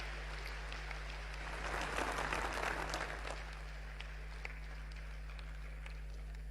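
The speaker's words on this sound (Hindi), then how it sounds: "आप भी ये तालियां बजा करके हरियाणा की" A crowd at a political rally gives a short swell of applause for the Haryana government, moderately distant, rising and then dying away over a steady low hum.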